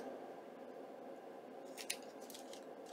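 Quiet room tone, then a few soft, crisp snips of small scissors trimming lace close by near the end.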